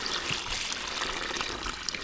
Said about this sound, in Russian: Воды льем приблизительно ведра 2, можно и чуть больше